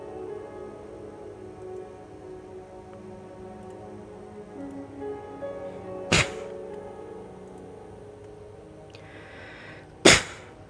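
Two sharp, loud sneezes a few seconds apart cut through an otherwise quiet background of soft steady tones.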